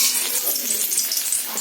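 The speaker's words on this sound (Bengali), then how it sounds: "এবার আমি তেলেতে ভাজবো, তেলে ভেজে নিয়ে তারপর আলুর দমটা করবো" Boiled potatoes frying in hot oil in a home kitchen, a steady close sizzle with a hissy, spattering texture that holds evenly throughout, no voices.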